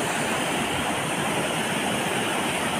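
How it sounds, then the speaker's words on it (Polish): Waterfall near Hechtsee lake: a continuous, loud, broadband rush of falling water, steady and close with no breaks. "Bo tutaj wodospady"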